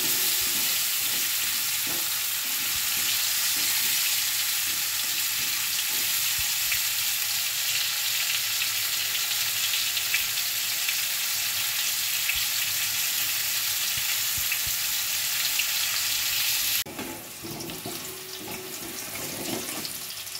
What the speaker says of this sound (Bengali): আলুগুলো আমি ভালো করে লাল লাল করে ভেজে নেব